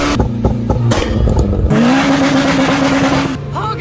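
Honda Civic Type R engine revving, with sharp blips and a rising rev that holds at a loud, close whine before cutting off, alone without talk.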